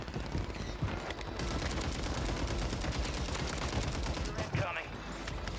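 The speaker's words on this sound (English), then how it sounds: "Yep, sentry gun." A sentry gun in the video game Warzone firing sustained rapid automatic bursts, loud and continuous, with a voice briefly speaking over the gunfire.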